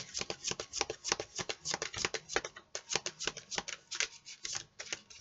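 A deck of Gaia oracle cards is shuffled by hand in a quick run of crisp, riffling flutters that come in close, rhythmic bursts with no talking over them.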